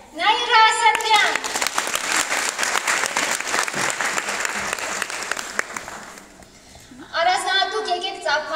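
An audience at a business seminar in Artashat breaks into sustained, dense applause lasting several seconds, framed by someone speaking over a microphone before and after.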